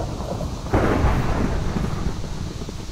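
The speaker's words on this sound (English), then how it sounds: "Oh my god, it's raining." Minecraft thunderstorm with rain: a steady wash of rainfall, then a loud rolling thunderclap breaking in near the start and rumbling on under the continuing downpour, with no talk.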